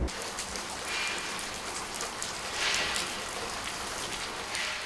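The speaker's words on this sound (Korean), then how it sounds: "그런데 예상치 못한 복병, 비가 내립니다." Steady rain falls at a construction site for a new roof-tile factory, hissing broadly and evenly across the whole span. Faint drop and splash detail sits within the wash, and no one talks.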